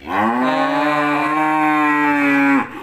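A single long, loud moo from a nursing, pregnant cow, a drawn-out bellow of nearly three seconds heard up close and alone.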